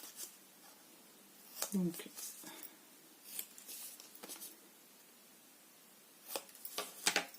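Small paper tabs being snipped at a bevel, giving several short, crisp cutting sounds spread across the clip, close and fairly quiet, with someone talking between the cuts.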